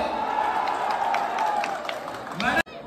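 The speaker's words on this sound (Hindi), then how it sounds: "जोरदार तालियां" A crowd at a Ganesh Puja stage program in Bangalore gives loud, sustained applause and cheering across the hall, continuing steadily before cutting off abruptly near the end.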